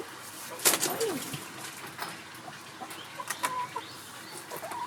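Chickens cluck and squawk in short bursts at close range inside their coop, with a sharp call near the start and softer murmurs scattered after it.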